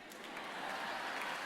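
Audience applause at a talk on women's work, a dense, steady wash of clapping from a crowd, even and sustained from start to finish at moderate distance.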